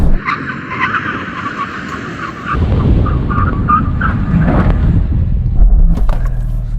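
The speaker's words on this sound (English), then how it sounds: "we're going to do a brake test from 100 miles an hour." Porsche Cayman cars brake hard from 100 mph in a brake test, tyres skidding loudly before the sound shifts into a heavy rolling rumble as the cars come to a stop.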